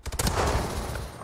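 Shotgun fire in the Apex Legends video game: dense, loud bursts of game gunfire packed into about a second, with sharp blasts at the start blending into a continuous roar.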